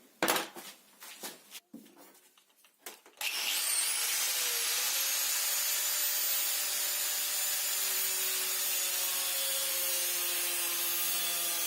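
A few scraping, rubbing strokes, then a loud, high-pitched angle grinder whine cutting metal starts and holds steady and harsh for several seconds.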